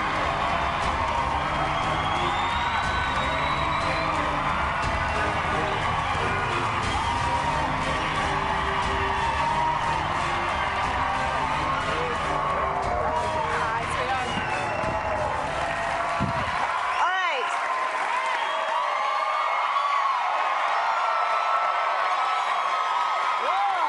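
A large studio audience at a weight-loss competition show cheers, whoops and applauds loudly and continuously for about seventeen seconds before the noise cuts off abruptly, leaving only quieter sounds.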